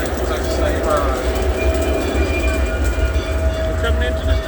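A Texas State Railroad train arrives at a station with a loud, steady rumble of rolling wheels and a faint high squeal, and a voice speaks over the noise.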